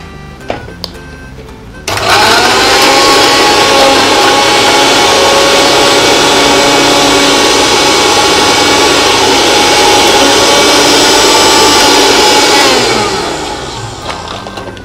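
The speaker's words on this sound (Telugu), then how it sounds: "ఇప్పుడు మనం ఇది గ్రైండ్ చేసేసుకుంటున్నాం" A countertop blender grinds apple and mango for a smoothie, starting abruptly after a faint lead-in and running as a loud, steady whirring drone for about eleven seconds before winding down.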